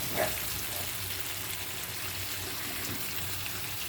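A sautéed vegetable curry sizzles steadily in a pan as it is stirred, a constant close frying hiss with faint scraping and no talk.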